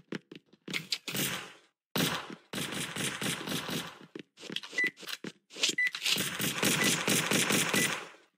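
Game gunfire from a shotgun in a Valorant-style shooter: loud bursts of repeated shots in several clusters separated by short gaps, close and alone with no talking.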